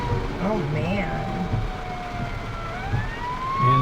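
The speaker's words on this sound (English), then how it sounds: "Looks like a fire truck." Fire truck siren wailing in rising and falling sweeps on a rainy street near an accident, moderately distant, with traffic rumble and voices talking over it.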